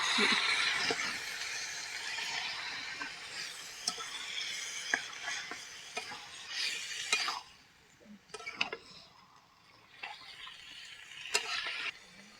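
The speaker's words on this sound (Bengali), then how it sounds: "এবার দিয়ে দিব চামড়াগুলো ভালো করে মিশিয়ে নেব" Chicken skins are stirred into oil-released fried spice paste in a pan, with repeated scraping and clattering strokes of a spatula over a soft frying hiss, louder early and then in sparser bursts.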